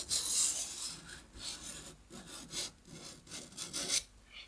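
A knife being sharpened with a run of rasping, scraping strokes in an uneven rhythm, close up and fairly quiet, with no talking.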